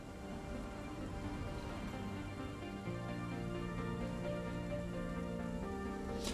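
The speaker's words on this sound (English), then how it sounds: "that rainstorm was triggered by the mission that we just did" A rainstorm in the video game Surviving Mars makes a steady hiss of rain, faint and continuous, layered with low sustained musical tones and no talking.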